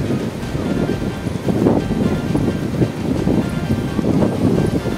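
Waves of the Arabian Sea wash onto the shore at Ratnagiri, a steady broadband roar with surges and wind buffeting the microphone, loud and continuous with no talk.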